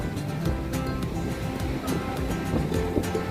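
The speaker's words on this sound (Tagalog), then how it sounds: "Lakas ng alon." Strong sea waves surge at Daet, a steady roar of surf with wind buffeting close to the microphone and a low rumble beneath.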